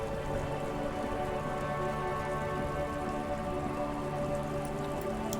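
Steady rain with slush falls in the video game Disco Elysium, an even, dense patter that holds constant throughout with no voices.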